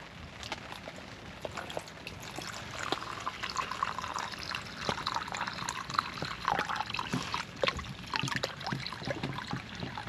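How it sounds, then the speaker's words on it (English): Water trickling and splashing into small cups outdoors while making mountain berry lemonade, with irregular drips and pours over quiet background noise. "So I have to fill one of these cups basically to the brim with water and then stir it in."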